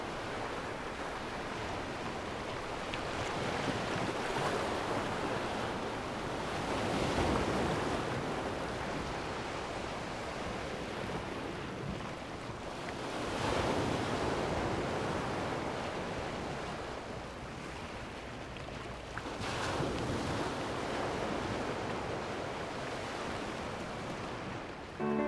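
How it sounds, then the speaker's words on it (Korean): Ocean waves rolling onto the shore at Ulsan, South Korea, in slow surges, each swell building and fading in a broad wash of surf, with wind noise underneath. "파도가 밀어올린 바다의 소리가 들려오는 곳"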